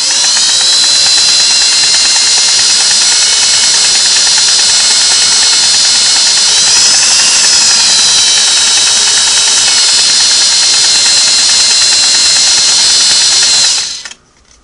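A Singer 401A sewing machine runs a zigzag stitch at a steady high speed, producing a loud continuous whirring mechanical hum with a fast regular stitch rhythm, stopping abruptly near the end.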